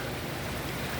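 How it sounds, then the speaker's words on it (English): Good rain falls on a mountain with cattle nearby, making a dense, even hiss of drops that fills the whole moment without a break. "That is a pretty sound right there, good rain"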